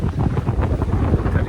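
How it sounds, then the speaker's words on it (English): Strong wind buffets a sailboat at sea on an ocean passage from Reunion to South Africa. It makes a loud, continuous low roar with gusty rumbling against the microphone and no voices. "the wind's coming up, got to get sailing"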